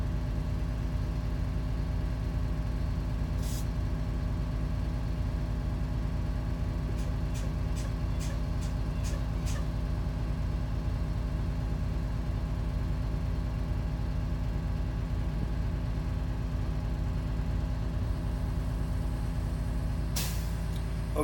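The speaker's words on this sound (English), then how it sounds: "we're going to listen for the air governor to cut out." A school bus diesel engine idles steadily and low throughout while air pressure builds, with a brief hiss and a short run of rapid clicks partway through and another hiss near the end.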